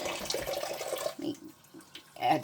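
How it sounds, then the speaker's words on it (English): A kitchen sink faucet runs while a pot roast is being made, a steady close stream of water that fades and then surges again near the end. "adds a little dab more water to that"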